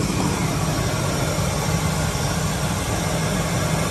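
Ford Excursion with a Triton 5.4 liter V8 idling under the open hood, a steady, even low rumble with broadband hiss and no changes in pace, heard close and alone.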